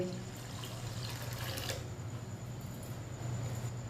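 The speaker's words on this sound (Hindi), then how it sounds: "आधा गिलास पानी और डाल लेंगे।" Half a glass of water being poured into a cooking pot, a steady soft splashing trickle that runs continuously and fairly close, with no talking over it.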